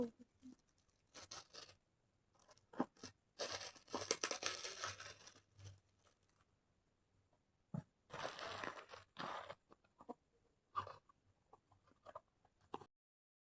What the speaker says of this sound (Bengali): ফার্স্টে আমি ছোট গিফটটা খুলছি